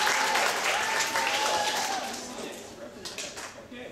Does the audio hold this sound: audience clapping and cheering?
yes